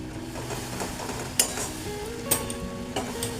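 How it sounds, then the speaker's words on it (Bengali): Sugary mango jelly chutney with raisins and cardamom stirred in a pan: a soft bubbling simmer with a faint hum, punctuated by three light clinks of a utensil against the pan. "আমি মিনিট 5 ধরে এটা আমি নাড়াচাড়া করেছি।"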